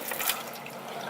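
Pink RV antifreeze runs from an outdoor sink tap while a camper is winterized, making a steady, close splashing trickle of liquid that continues without a break for about a second.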